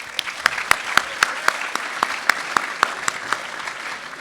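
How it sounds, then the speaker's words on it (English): An audience at a college athletics awards ceremony applauds with steady, sparse clapping. The claps are individually distinct, evenly paced and moderately loud, continuing throughout. "Let's give Chris a round of applause."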